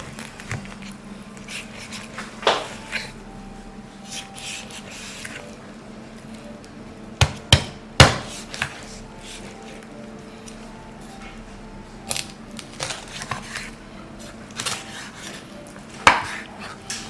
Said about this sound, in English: the breast itself is cut into 3 sections